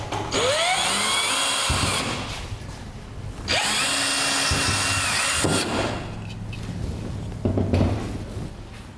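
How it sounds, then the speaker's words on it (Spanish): A power drill bores holes in PVC pipe for an adjustable chair, with loud bursts of the motor revving as the bit cuts, separated by brief pauses, close up and without talk. "then you're going to drill"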